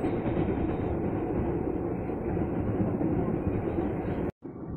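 A KRL commuter train departing Pondok Ranji station, a loud, steady rumble of the moving train close by with a continuous rolling roar, cut by a brief break near the end.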